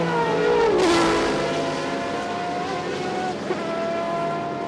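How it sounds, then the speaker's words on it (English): Several race car engines from the 1999 ALMS race at Canadian Tire Motorsport Park roar past together, one loud engine howling and dropping in pitch as it passes close, others droning on behind and echoing through surrounding woods. "There's 3 different engines right there."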